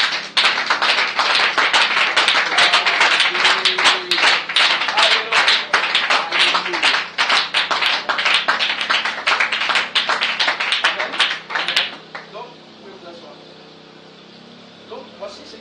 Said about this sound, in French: Est-ce qu'on peut donner une acclamation?